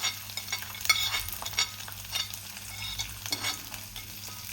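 Grated coconut, peanuts and cashews frying in a little white oil in a kadai for a makhana snack, a steady close sizzle with repeated spoon scrapes and stirring clicks throughout.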